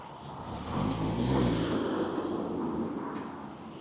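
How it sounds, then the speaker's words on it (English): Street traffic with cars driving past, a broad rushing roar that swells and fades as vehicles go by, with a steady background hum, moderately loud and without talking. "Let me show you the traffic."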